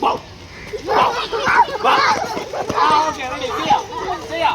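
Schoolchildren imitate a puppy's barking and whimpering with their voices in overlapping, excited bursts, mixed with group chatter and other voices close by.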